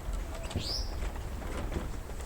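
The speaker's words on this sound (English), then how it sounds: "Yeah, a lot of birds here." Birds call on a Nairobi nature walk, including a clear rising whistle and soft cooing notes, fairly faint against a steady outdoor background hum.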